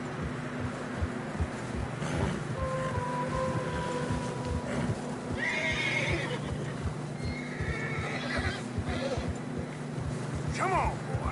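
Horses in snowy terrain in Red Dead Redemption 2, with neighs and whinnies rising over steady plodding hoofbeats and jingling tack, set against a low rumbling background, moderately close.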